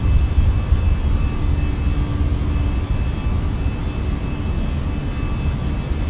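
Fenix A320 jet engines roar steadily at takeoff power in Microsoft Flight Simulator 2024, a loud, continuous broadband rumble with a faint high whine running throughout, no voices.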